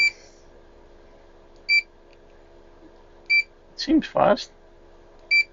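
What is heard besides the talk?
Fluke 287 multimeter continuity beep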